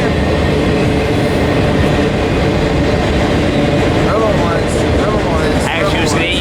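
A double-stack freight train rolls past near Barstow, California, a loud steady rumble of rail cars with rhythmic wheel noise, close by, with a voice speaking over it.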